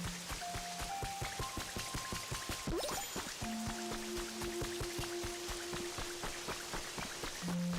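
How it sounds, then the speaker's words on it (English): Steady rain in the video game Pokopia, a dense patter of drops across the whole clip with soft game tones and chimes layered over it. "it's raining over here"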